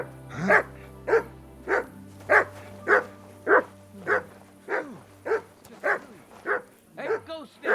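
A dog in Kingdom Come: Deliverance II barks about a dozen times in a steady, evenly spaced series, close and fairly loud, over a low background drone.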